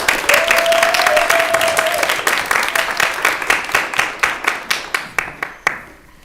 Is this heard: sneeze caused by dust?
no